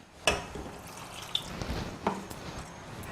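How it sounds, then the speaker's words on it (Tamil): Water is poured into a pan of peas masala gravy with ground chili and coriander powders, giving a close, wet splashing pour with a few drip-like accents and no talk. "கொஞ்சம் தண்ணி ஊற்றிக்கலாம் நம்ம."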